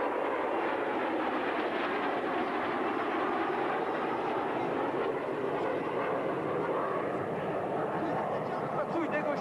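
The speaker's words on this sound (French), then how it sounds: "Nouveau passage public, en formation diamant et fumée tricolore." Patrouille de France jets in diamond formation with tricolour smoke roar past at an air base display, a broad, steady engine rumble throughout, with an announcer talking over it.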